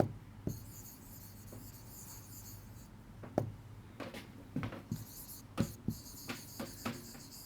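Pen or marker writing by hand on a board during a biology lecture, a series of short scratchy strokes and taps in uneven rhythm over a quiet room hum, with no speech.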